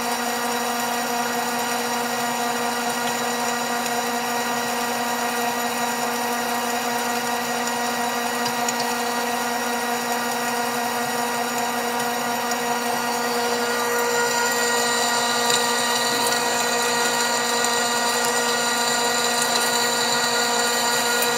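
Steady whining machine hum of a metal lathe rough-turning a shaft to about 41 mm, with sustained tonal drone and faint scraping overtones, continuous throughout with no talking.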